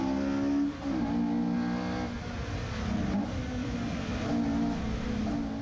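A rally car races flat out along a stage at Cadwell Park, its engine roaring and revving steadily with gear changes, loud and close as if heard from onboard, with no talking.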